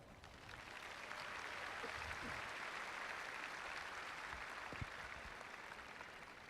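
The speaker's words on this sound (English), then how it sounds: "can we get a round of applause for the faculty here at Southwest?" Sustained audience applause for the faculty at the 2018 Southwest High School graduation ceremony, a steady wash of many hands clapping at even volume from start to finish.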